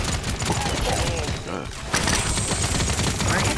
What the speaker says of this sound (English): Enemies are firing on me.